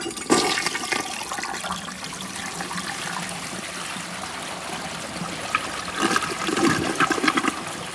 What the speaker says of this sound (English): Here's a normal flush.